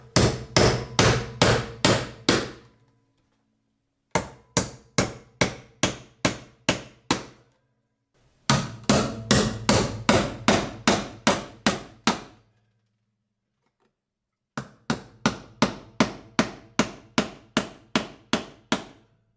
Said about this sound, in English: You just nail it right in place.